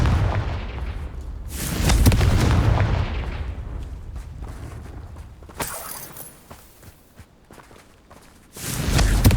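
Confringo blasting spells from Hogwarts Legacy on PS5 explode in deep, booming bursts with rumbling decay, one long blast followed by softer impacts and a fresh boom at the end, heard without talk.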